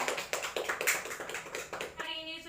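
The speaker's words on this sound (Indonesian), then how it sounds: "boleh tepuk tangan" A classroom of students claps together in a quick, rhythmic series of hand claps at moderate distance, stopping abruptly as the room noise shifts.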